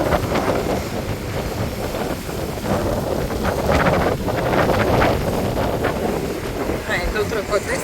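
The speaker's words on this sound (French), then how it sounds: "Là, il y a trop de vent, trop de vagues." Strong wind by the sea at the Dubrovnik harbour, loud buffeting gusts against the microphone over rushing waves, with a voice talking underneath.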